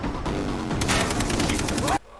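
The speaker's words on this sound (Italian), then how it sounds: "Sì, vabbè, mi hanno sparato" Rapid gunfire in the video game Far Cry 3 rattles loudly in a dense, continuous burst for about two seconds before cutting off abruptly.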